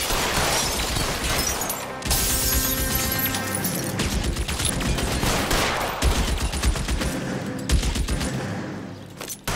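A dense, loud exchange of gunfire fills an L.A. Noire shootout, with rapid overlapping shots and sharp cracks continuing almost without pause, with no talking.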